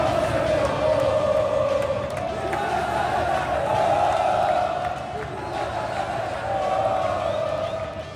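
Football supporters of Londrina's sky-blue-and-white side roar and cheer in a stadium after a goal, a broad, sustained crowd swell with shouts and whoops rising and falling over about eight seconds.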